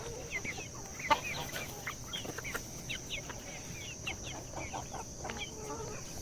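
Chickens cluck and chatter continuously at a moderate distance over a steady background hiss, with scattered short calls overlapping throughout.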